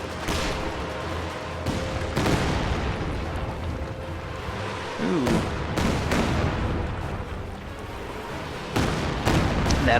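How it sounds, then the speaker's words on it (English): A Katyusha rocket barrage in the strategy game Company of Heroes 2 pounds out in repeated booming blasts and sharp cracks, loud and irregular, spread across the span under intermittent commentary. "That's going to be the very first opening Katyusha barrage"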